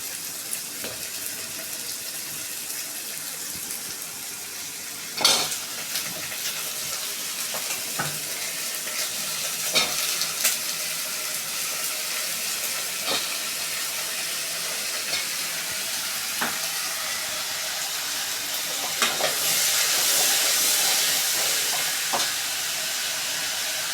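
Chopped eggplant, drumstick and green mango for Tamil sambar frying and being stirred in a pot, with a steady sizzle broken by scattered sharp scrapes and clinks of the spoon against metal, all fairly close and without voices.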